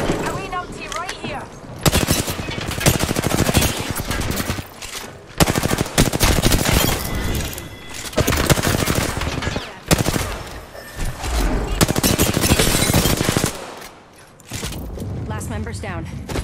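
Sustained automatic gunfire in the battle-royale shooter Apex Legends, loud, dense bursts of rapid shots broken by brief pauses, with a player talking over the action.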